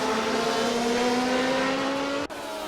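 Lotus 79 Formula 1 race cars in a racing video game at Interlagos, a single high steady engine whine rising slightly in pitch, cut by a quick gear-shift drop near the end.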